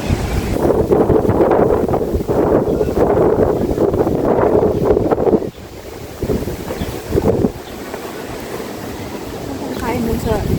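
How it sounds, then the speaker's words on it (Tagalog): Strong wind blows outdoors near Taoyuan, a steady loud rush with buffeting that drops off midway and then builds again, with people talking at moments. "Mahangin sa labas."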